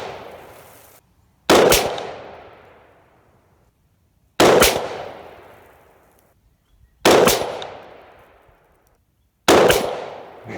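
Four loud, sharp rifle shots from an AR-15 with an 18-inch barrel firing 75-grain 5.56 reloads, spaced a few seconds apart, each with a long ringing decay across an outdoor range.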